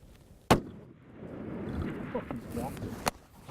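A single loud, sharp rifle shot at a bull elk during a hunt, followed shortly by a second fainter crack, with quiet voices talking between them.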